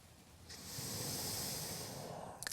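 A slow, audible inhalation through the nose during a morning exercise routine, a soft hissing breath that swells for about two seconds and fades, followed by a faint rustle.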